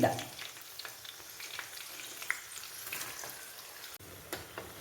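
Ginger for lemon pickle fries in oil with a quiet, even sizzle and scattered light clicks of stirring, heard close but faint.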